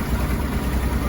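A Honda Deauville NT700VA motorcycle engine idles steadily at around 1050 rpm, a close, continuous low rumble with an even pulse and no throttle changes.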